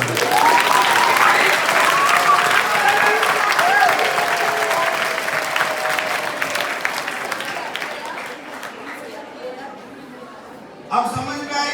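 Audience applause fills the room, loud and dense at first, then thinning gradually over several seconds as it dies down, with a voice cutting in near the end.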